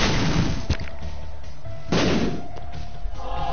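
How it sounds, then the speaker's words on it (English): A Troll Bomb explodes in The Binding of Isaac, a sharp booming blast followed by a second heavy burst about a second later, loud over busy game sounds. "Troll Bomb."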